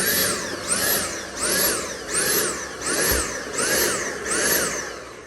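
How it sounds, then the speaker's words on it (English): A clogged Dyson vacuum cleaner with a full bin pulses on and off about six times, its motor whine surging up and dropping away again in a regular rhythm, loud and close. "when your Dyson does that, that means that you got to empty that compartment that's so dang full"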